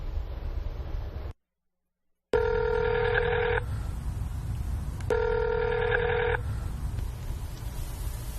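A telephone line rings twice before a call picks up, each ring a long steady electronic tone with a pause between, heard clearly over a faint line hiss after a brief dropout.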